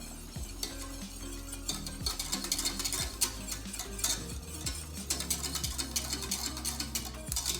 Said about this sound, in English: And then we'll stir that in.